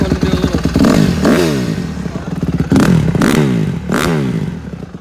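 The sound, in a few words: Honda CRF150R motorcycle engine revving after cold start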